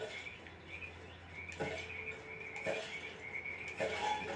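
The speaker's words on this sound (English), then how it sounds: "Alright, so let's spawn some frogs here." Frogs croaking in a Lego Worlds game scene, several sharp croaks spaced over a steady chorus of insect-like chirps and trills, fairly quiet and without talk.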